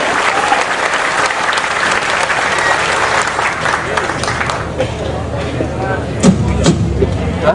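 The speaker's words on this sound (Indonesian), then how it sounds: "Tepuk tangan semua untuk kita." Loud, sustained applause from a large crowd, steady clapping that thins slightly toward the end with a few sharper claps standing out.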